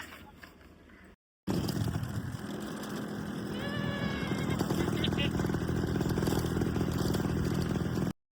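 A tomcat lets out a few short meows over a steady idling engine, with people talking nearby.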